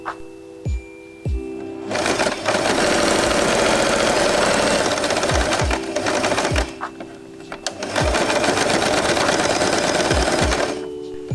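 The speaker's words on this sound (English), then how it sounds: "Sew all along by folding the white fabric." A sewing machine stitches red and white fabric for a Christmas faux-fur scrunchie, running in two long, steady, close bursts with brief mechanical clicks and pauses before and between them.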